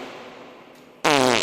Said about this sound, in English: fart noise.